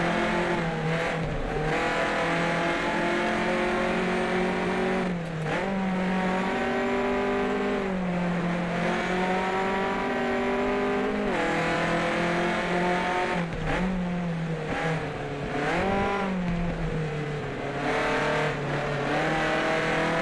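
Race car engine of a DAF 555 lapping the Nordschleife in GT Legends, a steady buzzing drone rising and falling in pitch through repeated gear changes, loud and continuous for the whole stretch.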